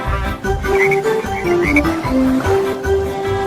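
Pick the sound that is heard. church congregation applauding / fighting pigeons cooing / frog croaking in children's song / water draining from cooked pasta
frog croaking in children's song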